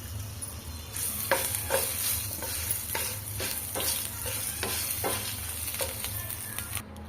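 Dried red chilies and tamarind fry in hot oil, giving a steady close sizzle broken by regular spatula strokes about once a second, with no voices.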